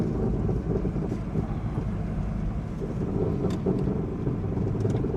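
A Ford Fiesta MK1, now firing on all four cylinders after a breakdown, runs steadily from inside the car at a constant low drone, with wind and road rumble throughout and no talking.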